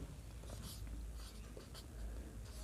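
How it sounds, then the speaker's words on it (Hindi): Chalk or marker writing on a board during a math class, faint scratchy strokes in short bursts over a low background rumble and room noise. "यहाँ पे लिखेंगे वेरीफाई।"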